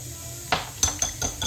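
Donair sauce with vinegar, onions and garlic being mixed in a bowl: a few sharp clinks and knocks of a utensil against the dish, close by, spaced irregularly over quiet background, no talk.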